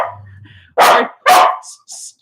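Dog barking at a house: a soft whine, then two loud, close barks in quick succession, followed by fainter high yelps.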